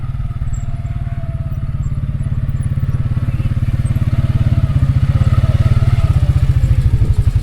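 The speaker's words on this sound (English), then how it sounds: "Sam's getting his first quad ride with Tammy, no less" A quad bike (ATV) engine putters loud and close with a rapid, steady pulsing beat that swells slightly while riding on a dirt road near a dispersed campsite.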